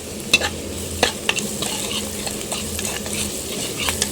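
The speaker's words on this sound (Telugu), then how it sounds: "ఉల్లిపాయ ముక్కల్లో కొంచెం పసుపు వేసుకుని మిక్స్ చేసుకుందాం" Onion pieces with a little turmeric are stirred in a hot frying pan, a steady sizzle broken by several sharp scrapes and clinks of the spoon against the metal pan, close and clear.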